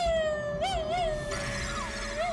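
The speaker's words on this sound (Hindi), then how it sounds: "घर में बिल्ली आ गई है।" A cat meows indoors, a clear, fairly loud tonal cry with a couple of rising and falling inflections, heard alone with a faint background hum and no talking.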